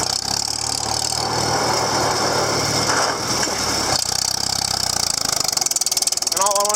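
A Farmall M tractor engine runs steadily and loud throughout, a continuous low rumble with a brief dip near the middle, and no talk over it.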